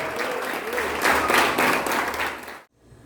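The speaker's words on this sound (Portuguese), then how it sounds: "Pastora Letícia, pode aplaudir o Senhor." A church congregation applauds in a steady wash of claps that swells briefly, then cuts off abruptly into near silence.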